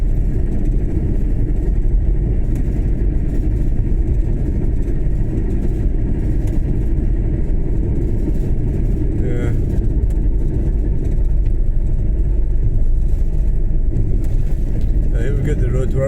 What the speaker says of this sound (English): There's definitely a lot of traffic coming out. Trucks and everything.